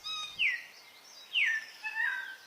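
A lyrebird mimics other birds: several sharp, bright descending whistles ring out one after another, with a softer trill between them, clear and fairly close against a quiet background.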